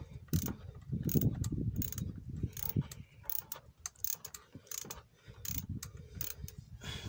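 Oil filter housing being tightened by hand tool on a Citroën 1.6 HDi diesel engine, plastic cap screwed into aluminium, giving irregular close clicks and scraping mechanical bursts with low rustling handling noise throughout.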